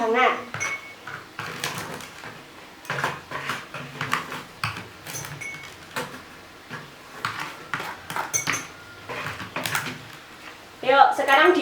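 A spoon stirs salt into warm water in a glass, giving repeated light clinks and scrapes against the glass in an irregular rhythm while a voice speaks throughout.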